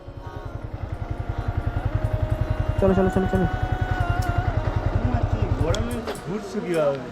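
A motorcycle engine runs while riding, giving a close, rapid and even thumping pulse that holds steady for several seconds, then fades. A voice calls out over the engine noise.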